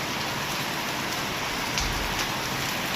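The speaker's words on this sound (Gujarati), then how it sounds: "હવે તો હાલ વરસાદનું નામ લીધું ને વરસાદ ચાલુ ધમધોકાર" Heavy rain pours down steadily, a dense, continuous hiss of drops pounding a surface, loud and close with no letup.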